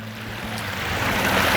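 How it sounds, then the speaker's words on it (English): A double waterfall cascading over rock into a garden pond gives a loud, steady rush of falling water, swelling slightly toward the end, with a low hum underneath and no voices. "It's got two waterfalls"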